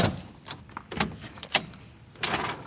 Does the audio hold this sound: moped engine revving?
no